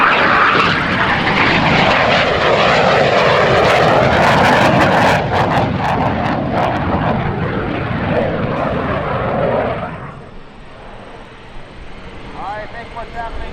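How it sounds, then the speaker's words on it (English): T-38 Talon jets roar past at an airshow in London, a loud continuous engine rush that swells and shifts before dropping to a quieter rumble near the end, with a voice talking over it. "the T-38s have got a little bit of extra fuel to burn, and so they're waving off their landing"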